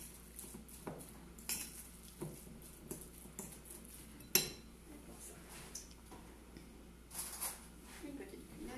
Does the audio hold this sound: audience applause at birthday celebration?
no